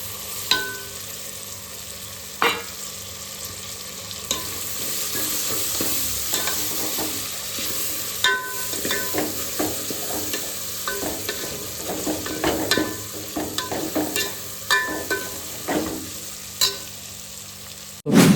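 Chillies and chopped tomatoes frying in a pan for Gujarati pulao, a soft steady sizzle broken by sharp clinks and scrapes of a spoon stirring against the metal, close and without talk.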